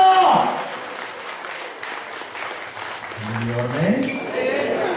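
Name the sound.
audience applause at a retreat talk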